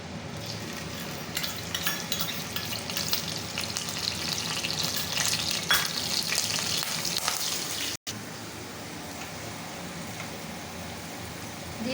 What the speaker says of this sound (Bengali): এবার আমি এর মধ্যে দিয়ে দেবো পেঁয়াজ বাটা।